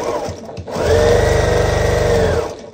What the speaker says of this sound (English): I'm going to sew from here down to here